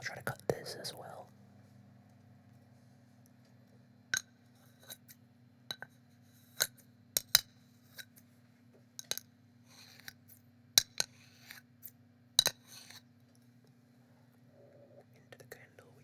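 Scissors snip close up through assorted objects that shouldn't be cut, including a candle, in an ASMR session, with sharp isolated cuts spaced irregularly over a steady low hum and soft whispering.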